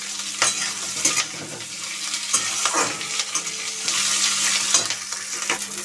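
Chopped onion and two green chillies fry in hot oil for chicken sundori, giving a continuous close sizzle broken by sharp scrapes and clinks of stirring, with no voices.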